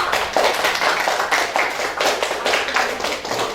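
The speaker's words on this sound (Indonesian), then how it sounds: "Tepuk tangan kelompok 3" Primary school classroom applauding a student group in an Islamic religious education lesson, a lively burst of many children clapping nearby, uneven and energetic throughout.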